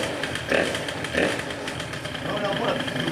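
Moped engine fitted with a 70cc Most kit runs close and loud, a buzzy two-stroke idle with small revving blips, while people talk over it.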